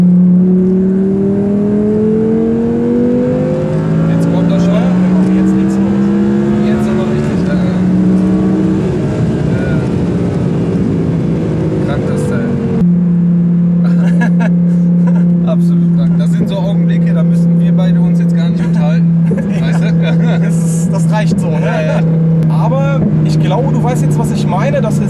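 Audi R8 BiTurbo with 1100 hp accelerating hard from inside the car, engine note climbing steadily through rising gears, then a sustained loud drone at high speed while people talk over it.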